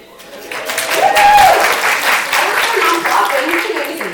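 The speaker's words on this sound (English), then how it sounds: "so y'all can clap for me" Audience members at a storytelling slam applaud, the clapping swelling quickly after a short lead-in and continuing as a full, steady round of hands in the room.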